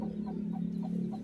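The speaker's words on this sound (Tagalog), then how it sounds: "Ay maluko tong inahin na to" Low, soft rhythmic clucking from a mother hen with young chicks, a steady murmuring hum with repeated brief pulses, faint and close.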